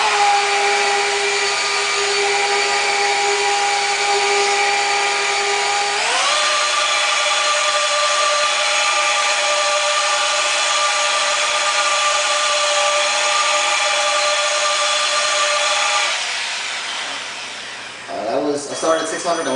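A Flex PE 14-2 rotary polisher runs at a steady, loud motor whine, then steps up in pitch partway through as the speed is raised, and winds down toward the end with some handling noise.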